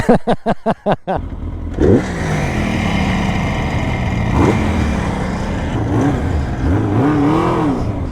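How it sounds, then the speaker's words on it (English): A Kawasaki H2 750 two-stroke motorcycle on a road ride-out, a few sharp rhythmic revs up front, then a sustained engine drone rising and falling as it rides along, loud and close. "Right, so Paul's out on his H2, obviously, his 750 Kawasaki, one of them."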